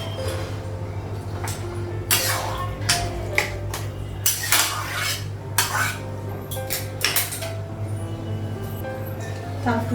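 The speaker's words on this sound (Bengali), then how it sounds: "তার একটু ঢাকা দিই" A metal lid set onto a cooking pot on a gas stove, with a burst of close, loud clanking and rattling of metal cookware in quick irregular clusters.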